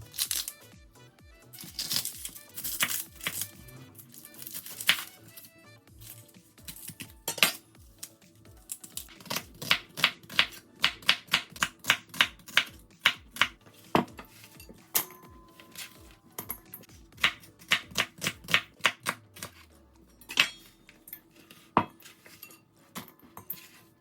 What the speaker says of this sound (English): I'm going to start off by slicing my white and red onions